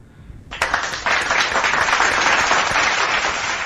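Canned applause from a streamer's soundboard bursts in after half a second of quiet, a dense, steady wash of clapping and crowd noise that holds loud and even to the end.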